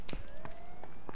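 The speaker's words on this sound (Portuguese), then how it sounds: "Opa, sirene. Carro sirene." A rising, wailing car siren sweeps upward in pitch over about a second in the video game H1Z1, fairly faint, with soft footstep-like thumps around it.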